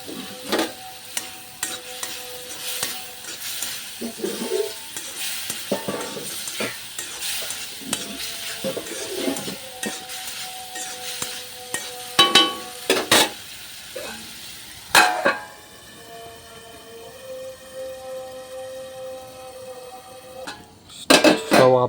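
Egg tomato curry masala fries in a pan while a spoon stirs and scrapes through it, steady sizzling under repeated sharp metal clinks and scrapes, close and fairly loud.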